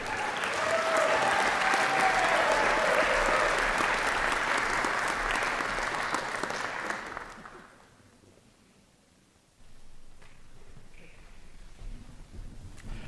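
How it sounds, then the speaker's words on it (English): Warm, sustained applause from an audience at a university honors convocation, a dense roar of clapping that holds steady for several seconds, then dies away into near quiet before faint room noise returns. "Please give a round of applause for Trey Barnett."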